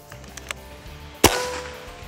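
A single sharp crack from a Gauntlet air rifle firing a heavier pellet on a range, loud and near, with a quick decaying ring after it and a few faint knocks beforehand.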